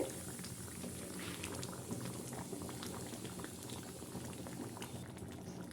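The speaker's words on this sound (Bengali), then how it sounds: "দেখুন চাটনিগুলো খুব সুন্দরভাবে ফুটছে" Tomato chutney bubbling steadily in a covered pot over medium heat, a soft, continuous simmer with faint popping bubbles, quiet and close.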